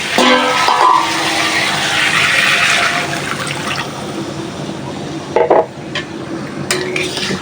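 Fish and water are poured into a pan of stalk curry and stirred, a loud, close rush of liquid and bubbling hiss filling the whole stretch, with a few scraping knocks of the spoon near the end.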